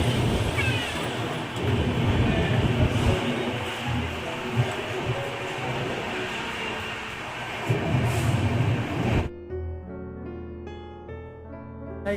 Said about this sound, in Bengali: আমাদের ট্রেন পৌঁছায় আসানসোল জংশনে